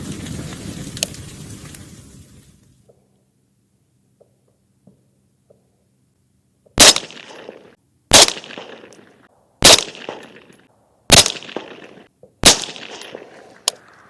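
Five sharp, loud rifle shots ring out at a target, spaced roughly a second or so apart, each with a brief decaying echo, after an earlier stretch of rustling and near silence.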